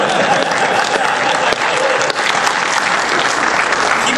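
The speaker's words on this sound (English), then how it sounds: "Keep applauding so he doesn't leave" Loud, sustained applause from a large convention audience at PAX East 2013, dense and steady clapping that fills the whole stretch without pause.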